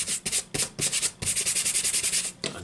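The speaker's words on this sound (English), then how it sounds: "you'll be able to start sanding again" Close, scratchy rubbing of a sanding stick on a King Tiger tank scale model, several short strokes then a fast steady run of back-and-forth passes.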